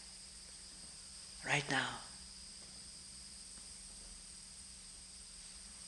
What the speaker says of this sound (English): there is the sound of crickets, isn't there?